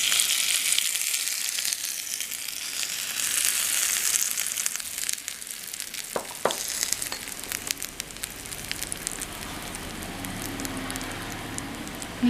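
Curry leaf tempering poured into a mango curry, hissing in a loud, bright sizzle that crackles with sharp pops midway and then settles into a quieter, steady fizz.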